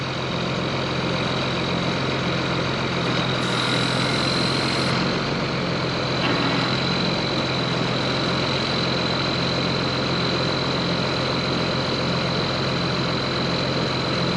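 A heavy machine engine idles with a steady, loud diesel rumble and a constant whine, running unchanged for the full stretch with no voices over it.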